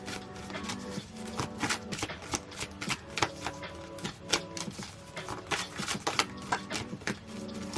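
Tarot cards are shuffled close by in quick riffling bursts, a rapid flurry of soft clicks and flaps repeating irregularly.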